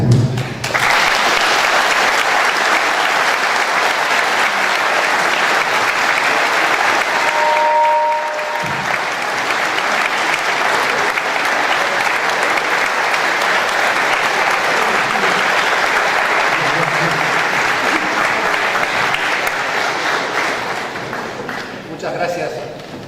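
Sustained audience applause at a congress gathering, dense and steady for about twenty seconds before tapering off near the end, with a brief voice breaking through partway.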